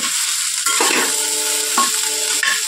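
Potatoes sizzle and crackle steadily in hot oil, with occasional stirring scrapes against the pan.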